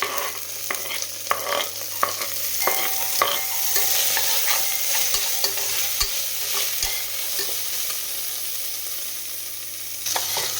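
Onions fry in a pan for chicken biryani with a continuous soft sizzle, punctuated by repeated sharp clinks and scrapes of a spoon stirring against the pan, close up and without talk.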